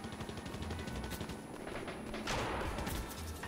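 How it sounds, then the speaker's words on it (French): Rapid gunfire from an enemy shooting at the player in Fortnite crackles in dense bursts, loud and continuous with a heavier burst midway, and no voice over it. "Ouais, j'ai un mec qui me tire dessus là."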